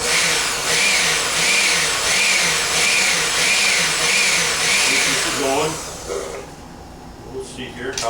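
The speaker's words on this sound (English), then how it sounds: "Put the lid back on the blender." A blender whirs loudly with a steady pulsing motor drone, then shuts off and winds down, leaving quieter room sounds and clatter.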